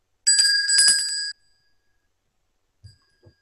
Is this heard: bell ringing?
yes